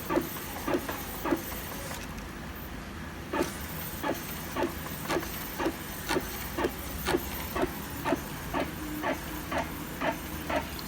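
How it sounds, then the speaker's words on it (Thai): A direct-to-garment printer laying ink onto a T-shirt, its print head carriage clicking and whirring in steady, evenly spaced passes over a constant mechanical hum, with a brief quieter pause early on. "เดี๋ยวผมให้ดูตอนปิ้นเลยนะครับ"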